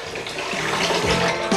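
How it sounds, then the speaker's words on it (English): Water gushes steadily from a tap, a continuous rushing splash with some low gurgling, fairly close and loud throughout. "If you leave the water on while you brush your teeth"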